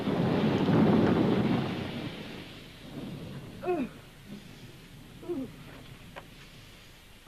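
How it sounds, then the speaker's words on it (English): A rainstorm with rolling thunder: a heavy low rumble swells at the start and fades, followed by a quieter wash of rain with a few faint scattered sounds. "couldn't we just come in to change our clothes till it stops raining?"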